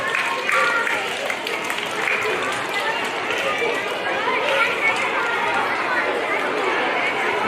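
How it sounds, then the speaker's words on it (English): An audience in a school auditorium claps and chatters at a Book of the Year celebration, a dense, loud, continuous wash of hands and crowd voices that runs without a break. "let's give him spirit fingers, or a clam clap, or a golf clap"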